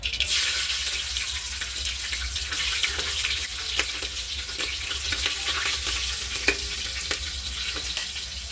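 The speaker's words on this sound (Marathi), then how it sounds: "आपलं तेल गरम झालंय आता मी मोहरी टाकून घेते मोहरी चटली आता आपण याच्यामध्ये जिरे टाकू मिरच्या" Mustard seeds, cumin and chillies sizzle steadily in hot oil for a Maharashtrian dal khichdi tempering, a bright continuous crackle with occasional sharper pops and no voices.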